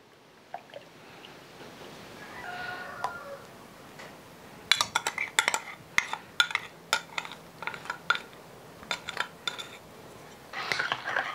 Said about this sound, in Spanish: ya voy a revolver todo aquí en la crema para batir